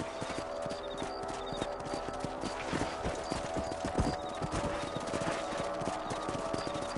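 Horse hooves clip-clop in steady rhythm in the Western video game Red Dead Redemption, with several horses trotting close over a low ambient bed and an occasional whinny.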